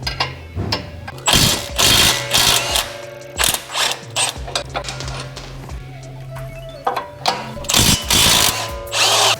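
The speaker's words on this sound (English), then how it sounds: "I'm going to loosen both the camber bolt and the bottom bolt over here" An impact wrench or power tool loosens the 19mm camber bolt and bottom bolt on the front suspension of a 2008–2014 Subaru WRX sedan during a home coilover install. It fires in loud, repeated whirring bursts with short pauses between them.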